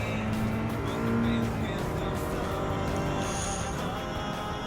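A race car driving on the Tsukuba circuit in Gran Turismo 7 during a Japanese FR challenge race, a steady sustained engine drone with a brief high whine of tires near the end.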